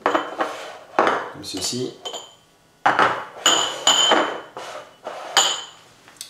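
Small ceramic ramekins being lifted and set down on a kitchen counter, ready for coconut milk panna cotta, giving a series of close, sharp clinks and knocks in irregular bursts, with a brief spoken phrase in the middle.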